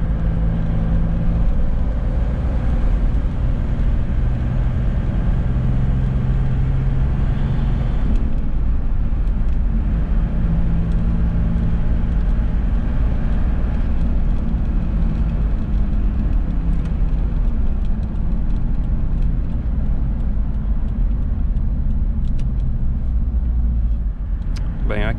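Toyota Land Cruiser LX driving on a road with family aboard, a steady low engine and road rumble filling the cabin throughout, with voices talking over it.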